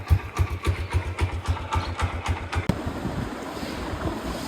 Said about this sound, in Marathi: बाईक पण लावले गरम आता